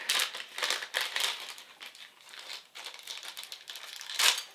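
A blind bag of NFL Small Pros mini figures is torn open close up, giving a run of sharp plastic crinkles and rustles in irregular bursts, ending with a louder crackle.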